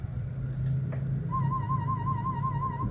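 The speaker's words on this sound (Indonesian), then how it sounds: "Kalau misalnya bunyi warble, dia seperti ini." Warble test tone from an Audixion AX-300 audiometer, a steady tone with a rapid, even pitch wobble that starts partway in and holds, over faint room noise.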